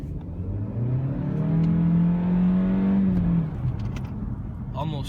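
A 2016 Honda Civic Turbo with its stock intake revs hard during a pull, the engine rising in pitch to a peak and then easing off as the revs drop, with some talk underneath.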